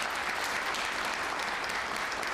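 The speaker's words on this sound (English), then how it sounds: "Anna Lukowski and Ellen Francis. Both are runners-up. Again, a big round of applause." Audience applause for runners-up at a children's spelling bee, dense steady clapping filling the room without a break, fairly close and loud.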